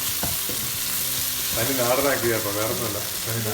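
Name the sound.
soy sauce poured into a sizzling pan of fried rice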